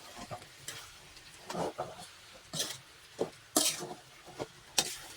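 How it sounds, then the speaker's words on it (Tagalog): Sticky rice biko with sugar being stirred in a pan, with soft scraping and sizzling strokes repeating irregularly at close range and no talking. "Ayan, haluin lang natin ang luto."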